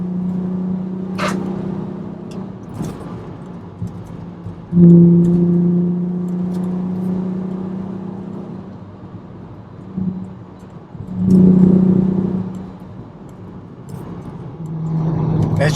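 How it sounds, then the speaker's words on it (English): A Volkswagen R32 with a V6 engine idles with a deep, steady hum, then is revved twice in strong, swelling bursts that settle back to idle. The sound is close and loud, with some wind noise. "There's just something about the V6 engine, like the noise that it makes, it's something else."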